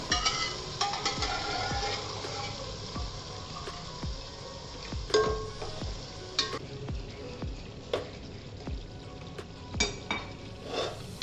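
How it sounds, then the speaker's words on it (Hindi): Mutton pieces and chopped bottle gourd fry together with spices for Hyderabadi dalcha, under a continuous sizzle. A spoon stirs and scrapes the pot, adding frequent clinks and knocks throughout. "इन मसालों के साथ इसे अच्छी तरह से भूनना है।"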